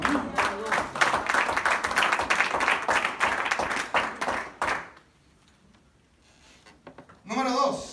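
A church congregation claps and cheers for several seconds, loud and close, then the applause fades out and a voice begins speaking in Spanish.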